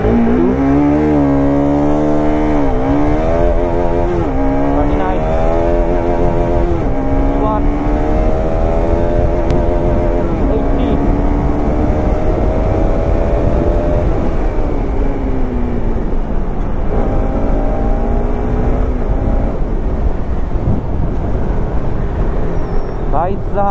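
A Bajaj Pulsar RS200 motorcycle accelerates hard through the gears in traffic, its engine note climbing repeatedly in loud rising sweeps with brief dips at shifts, under occasional talk from the rider.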